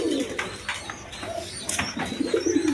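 Golla pigeons offered for sale coo softly in short repeated phrases at close range, with faint background chatter and rustling.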